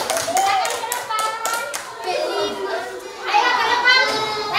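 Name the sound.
children applauding in a classroom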